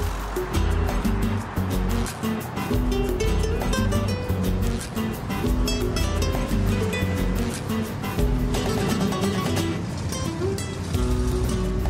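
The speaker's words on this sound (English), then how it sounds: "What I'm listening to now are some of the sweetest sounds ever, the sounds of creation." Cosmic background radiation rendered as audio: a steady, dense roaring wash with a rushing surf-like texture and faint tonal layers, continuous and loud throughout.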